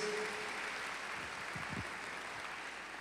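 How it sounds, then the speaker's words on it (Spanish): A church congregation applauds during a Spanish-language service, a soft, steady patter of clapping that carries on evenly across the whole moment, with no talking over it. "les damos un aplauso a ellos también"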